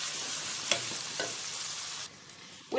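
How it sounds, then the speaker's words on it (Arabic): Sliced onion and green chili frying in a pan, stirred steadily: a loud continuous sizzle with a couple of soft utensil scrapes, close by, easing off to quieter frying near the end. "لما البصله بدات ان هي تدبل كده هنزل عليها بقى قرن الفلفل الاخضر"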